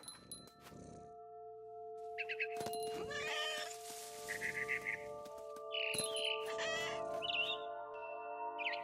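A cat in the video game What Remains of Edith Finch meows and caterwauls several times, drawn-out and fairly close, over a steady synthetic hum with occasional chirps and chimes.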